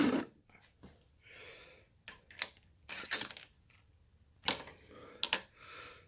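Old bolts from a Honda B16A engine tear-down dropping into a pile of bolts: several sharp metallic clinks and rattles in uneven bursts, close and fairly quiet, with soft breathing between them.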